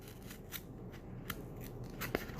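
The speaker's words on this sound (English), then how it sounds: "we're going to take our scissors and we're going to cut halfway into the line here" Scissors snip into friendship bracelet material in a few faint, crisp cuts spread across a quiet room, with a sharper close snip near the end.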